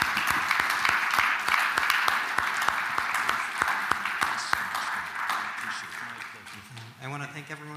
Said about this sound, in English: Have another round of applause